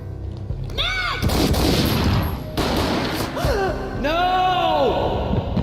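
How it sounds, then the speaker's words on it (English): Gunfire from the video game Max Payne, a loud sharp burst of shots over a constant dense game soundscape, with gasping voices and pained vocal sounds around it. "A gunshot boomed and she fell down in slow motion."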